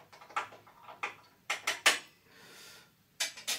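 A spoon clinks against a glass while stirring a drink of 5-year-aged rum, giving a series of sharp, close ticks and taps in irregular bursts with brief pauses between.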